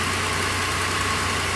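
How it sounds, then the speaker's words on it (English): A 2006 Ford Escape's dual overhead cam Duratec V6 idles steadily with a low, even rumble and a slight exhaust leak, close by and alone without talk. "this is the dual overhead cam Duratec V6"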